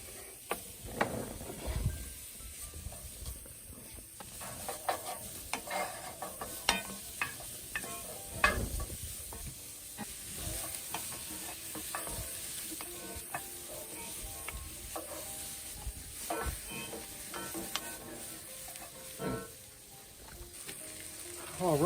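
Chopped onions and garlic cloves sizzling in a pan, a steady close frying crackle broken by frequent scraping and stirring noises through the stretch, with faint talking at times.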